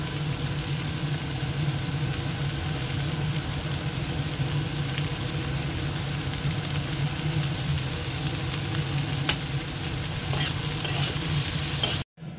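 Okra (bhindi) fries in a pan with a loud, continuous sizzle that holds steady throughout, then cuts off abruptly near the end.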